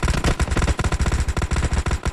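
Rapid bursts of automatic gunfire in PUBG Mobile rattle continuously, loud and close, with dense repeated shots in quick succession.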